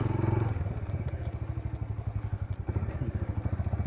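A motorbike ridden along a rough rural path, its engine thrumming steadily up close while the frame rattles and clatters over bumps, with no talk.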